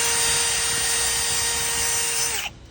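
A power brush is run over sanitary tubing to prep it for welding, making a steady, loud, high whirring whine that holds evenly for over two seconds, then cuts off sharply as the tool stops.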